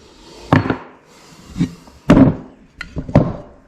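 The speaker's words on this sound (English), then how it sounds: "That way, hammering them out, it takes less effort to hammer them out" Heavy hammer blows knocking wheel bearing races out of a 1960 GMC truck hub: about six sharp, close, loud metallic thuds at irregular intervals, with quiet gaps and no talking.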